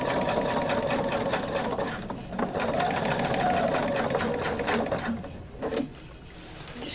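A sewing machine runs steadily while stitching a patch onto a shirt sleeve, its whirring motor and rapid needle clatter continuous and close, with only a brief slowdown near the end and soft speech underneath.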